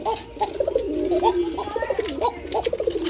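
Pigeons coo close by in a continuous run of warbling, throaty calls, one voice overlapping another, with a faint voice speaking underneath.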